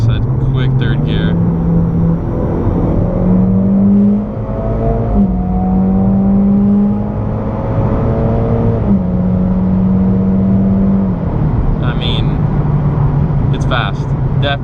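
A Mitsubishi Lancer Evolution X MR running on E85 pulls hard in third gear, its engine note climbing steadily and loud from inside the cabin, with a brief shift dip and faint clicks near the end.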